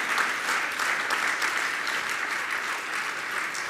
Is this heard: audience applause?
yes